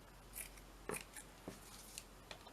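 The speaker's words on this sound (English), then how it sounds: "Let's cut a piece of this. Let's just cut a little strip all the way down" Scissors snip through a strip of lace in a quiet room, five or six short, crisp, close cuts at an uneven pace, with no talking.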